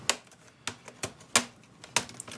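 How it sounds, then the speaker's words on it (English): A plastic pry tool worked along the top edge of an Acer Aspire V5-531 laptop keyboard, giving five or six sharp, close clicks and snaps at irregular intervals. "by sliding our pry tool in along the top edge"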